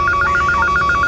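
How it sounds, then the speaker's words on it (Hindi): A home landline telephone rings in a fast, regular electronic warble of repeated pulses, loud and close, with no one speaking. "अभी तुम घर के लैंडलाइन पे फोन करो और जैसे ही कुलदीप उठाए फोन काट देना।"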